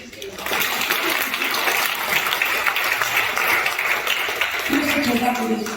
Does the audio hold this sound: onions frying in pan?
no